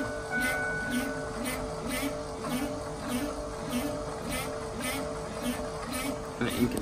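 A FASS diesel fuel pump runs with a steady, fairly quick clicking pulse over a constant mechanical whir, heard up close with no talking.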